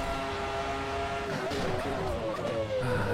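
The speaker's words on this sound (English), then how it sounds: "I'm just enjoying the race and driving the car" A racing car in a VR racing video game drives hard, its engine whining at high revs with shifting pitch and some tyre noise, loud and continuous, with no talk.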